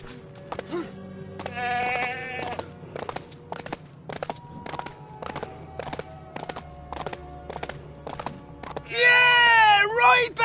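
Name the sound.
goat bleating in video game Lego The Hobbit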